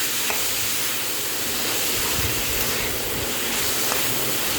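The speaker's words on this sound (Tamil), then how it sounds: "இப்போ நான் வெங்காயத்தை வதக்கி விட்டுட்ருக்கேன்" Onions sauté in a pan with a continuous close sizzle and hiss, broken by occasional soft scrapes and taps from stirring, with no voices.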